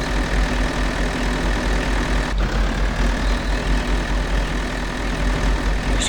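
A tractor engine in the video game Farming Simulator drones at a steady idle, a continuous low mechanical hum that stays even and close throughout, with one brief sharp tick partway through.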